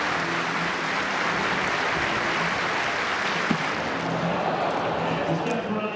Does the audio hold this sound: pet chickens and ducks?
no